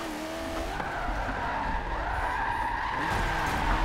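Car tires squealing during tandem drift testing at Long Beach, a sustained loud screech with engine drone underneath, steady and close, no talk.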